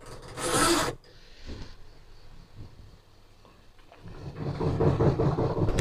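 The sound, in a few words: cutting fabric for a bustier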